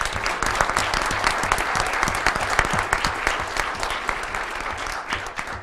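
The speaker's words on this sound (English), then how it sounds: "Let's give them a nice warm round of applause." Warm applause at a city council meeting for a Little League Majors Division baseball team, steady, crisp hand clapping from a modest indoor audience, continuing evenly from start to finish.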